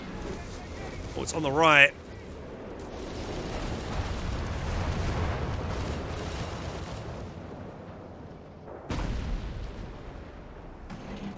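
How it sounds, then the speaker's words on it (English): A Stuka dive bomber attacks in the WWII strategy game Company of Heroes 3, opening with a short rising and falling whine, followed by rumbling blasts and artillery booms while someone speaks briefly. "Here comes a Stuka."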